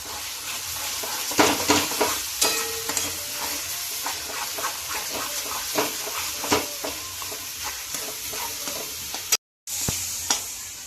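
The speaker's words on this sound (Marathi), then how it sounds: "बघा आपला मसाला कसं तेल सोडायला लागले बघा, त्यामुळे आपला मसाला भाजला हा समजायचा." Masala spices frying in oil for a spicy Marathi ridge gourd curry, a close, continuous sizzle with repeated scraping and tapping from a spoon stirring the pan, broken by a brief dropout near the end.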